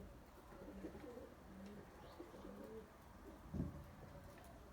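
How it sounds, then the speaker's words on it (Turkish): Pigeons cooing among a flock of birds: soft, low, repeated coos that are fairly close but quiet, over faint outdoor background noise and brief rustling, with no talking. "Bizim burada da maşallah arkadaşlar bir sürü kuş var yani."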